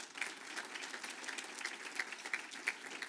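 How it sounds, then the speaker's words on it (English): Applause at an alumni awards night honoring a university volunteer, heard as steady, fairly faint clapping from a crowd throughout, with scattered sharper individual claps standing out. "Give him a round of applause"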